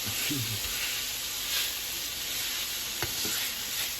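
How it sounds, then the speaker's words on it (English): Steady, crackling sizzle of taco meat frying in a hot pan, continuous and close, with a few soft clinks and low background murmurs. "You can see that sizzling."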